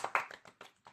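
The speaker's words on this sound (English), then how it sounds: "That's the only applause you're getting" A lone person claps about six quick times, close by and fairly quiet, in a brief burst with short gaps between claps.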